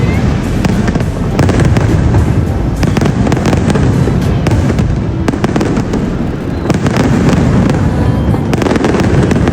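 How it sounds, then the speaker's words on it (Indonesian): New Year fireworks bursting in front of a hotel in Malaysia, loud and continuous with dense crackling pops and booms, crowd noise and wind rumble beneath throughout. "Ini kembang api di depan hotel kita, meriah banget guys."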